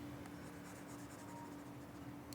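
Pen writing on paper or a board while a physics problem is worked through, a faint continuous scratching with a steady hum underneath and no speech.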